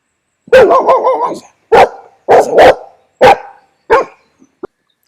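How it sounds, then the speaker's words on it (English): A big dog barks at a delivery driver, loud and close, first a long wavering howl-like bark, then four or five sharp separate barks with short pauses between. "I guess a big barking dog is scary."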